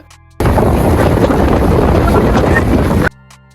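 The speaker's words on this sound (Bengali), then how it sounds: "আর ট্রেন যখন রানিং হয়, ছাদে বাতাসের প্রচুর প্রেসার থাকে।" Wind rushes loudly and steadily across the roof of a running train, a dense roar that starts abruptly and cuts off after nearly three seconds, with quiet before and after.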